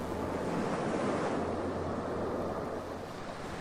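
Ocean waves surging and washing in a steady, continuous roar of surf, loud and close with a windy rush over the top and no pauses throughout.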